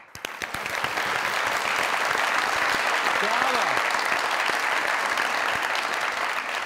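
Studio audience on a comedy talk show bursts into loud, sustained applause that swells within the first second and holds steady, dense clapping throughout with a voice briefly audible inside it.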